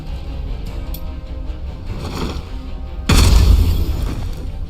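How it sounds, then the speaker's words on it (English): A grenade explodes in Phantom Doctrine, a sudden loud deep boom that cuts in after a few seconds of low background noise and then rumbles away. "Look what this grenade can do for us."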